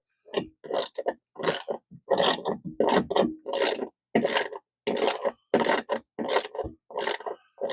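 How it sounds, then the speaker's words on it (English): A hand crank mechanism ratchets in about a dozen short, steady bursts of clicking, close and clear with brief pauses between turns and no talking. "One million cranks to go."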